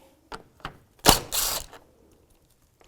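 A 10mm socket ratchet working on the radiator cooling fan mounting bolts of a 2004-2009 Subaru Outback, two short clicks followed by a louder rasping burst of ratcheting, close and dry in a quiet space.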